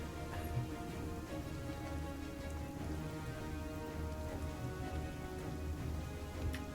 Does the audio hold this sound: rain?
yes